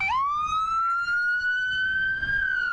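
An ambulance siren of the Dessercom company sounds a single loud, steady rising wail that holds its pitch, over low road rumble.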